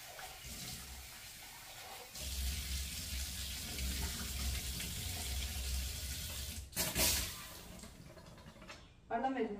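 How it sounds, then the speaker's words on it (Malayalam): Orange peels are rinsed under a running kitchen tap, a steady close hiss of flowing water that cuts off briefly near the end, with faint talk in the background. "അപ്പൊ ഞാൻ നമ്മുടെ ഓറഞ്ചിന്റെ തോലി ഒന്ന് വാഷ് ചെയ്യുന്നുണ്ട്"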